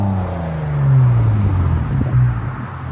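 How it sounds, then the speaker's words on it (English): A 2018 Genesis G80 with a 3.3L twin-turbo V6 and muffler delete rumbles loud and close, its engine note rising into a rev and then easing back, steady and deep throughout. "The intake's coming in. Really hear that turbo."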